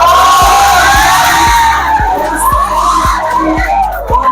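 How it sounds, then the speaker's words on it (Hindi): A crowd at a Teacher's Day celebration cheers and shouts loudly, voices rising and swooping over a regular, evenly spaced low thump, with no clear speech. "तालियों और सीटियों का हल्ला जोर से होना चाहिए।"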